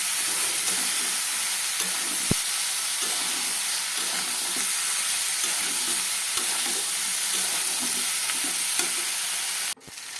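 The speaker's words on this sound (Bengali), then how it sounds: "এবারে এর মধ্যে আমি আমার পেস্ট করে রাখা মশলাটা দিয়ে দিলাম" A spice paste of ginger, coriander and cumin fries in a pan with a loud, dense, continuous sizzle and hiss up close, faint stirring scrapes underneath, and a sharp clunk right at the end.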